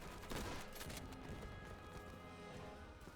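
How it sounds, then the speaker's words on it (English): Enemy gunfire in the WWII shooter Easy Red 2 during the Cassino campaign: a dense, continuous fusillade of overlapping distant shots and cracks, fairly quiet and unbroken throughout. "I don't even know where the fucking enemy fire is coming from here."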